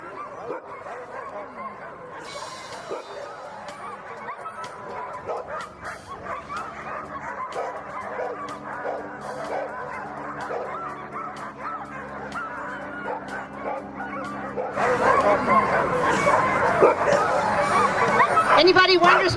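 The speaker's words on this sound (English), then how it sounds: "Anybody wonders whether dogs like to do this or not, just listen to them." Sled dogs at the start of an Iditarod qualifying race bark, yip and whine excitedly in a dense, continuous chorus that swells louder near the end, with people talking among them.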